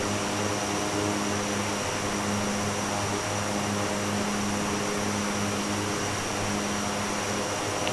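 An ATR72 turboprop airliner's engines in a flight simulator: a loud, steady propeller drone with a constant hum and even whine, unbroken throughout with no talking.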